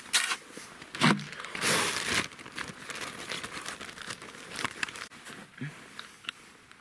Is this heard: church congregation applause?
no